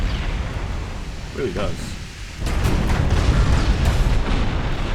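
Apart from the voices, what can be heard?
battleship turret guns firing in the video game Ultimate Admiral Dreadnoughts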